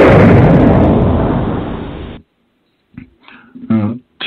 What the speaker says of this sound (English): We drop the bomb.